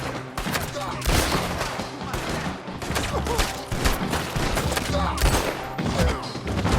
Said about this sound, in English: What are those guns they have?